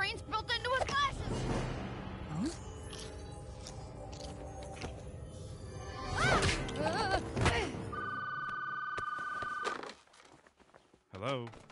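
A telephone rings in the Lego Incredibles video game, with a sustained electronic ring tone partway through that follows busy game sounds and footsteps.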